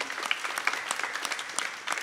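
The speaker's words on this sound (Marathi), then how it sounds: "खरं एकदा जोरदार टाळ्या मॅडमसाठी" Audience clapping for a woman being honored at a public event in Pandharpur, a steady burst of many hands with sharp irregular claps, moderately close and without talk.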